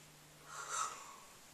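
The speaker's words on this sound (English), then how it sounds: "That was a fake yawn." A person gives a single fake yawn, a breathy, drawn-out vocal exhale that swells and fades over about a second, close and quiet with no other sound.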